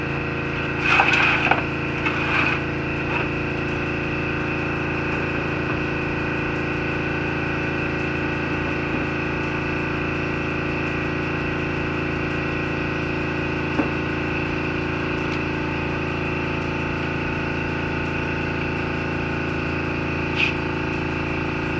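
An air compressor runs in a garage to build pressure, holding a constant, steady mechanical hum. A few brief clicks and knocks sit over the drone early on.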